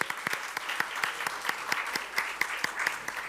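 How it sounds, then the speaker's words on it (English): Applause from an audience at a media festival, scattered sharp claps with a few louder ones standing out, continuing steadily. "Seek applause, applauding yourself."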